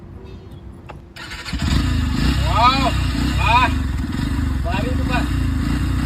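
A Yamaha motorcycle cranks to life and settles into a loud, steady engine note with a few rising revs, close by, while voices talk over it.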